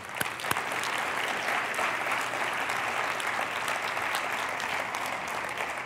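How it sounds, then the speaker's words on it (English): A conference audience applauds a climate action panel at a research university event, a steady, full round of clapping with a few sharp claps at the start, sustained evenly without voices. "Let's give a round of applause for the panel."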